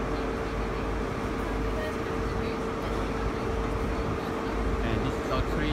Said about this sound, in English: And here she comes, the fastest diesel train in the world, the British Rail Class 43.